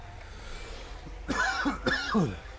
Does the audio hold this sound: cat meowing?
no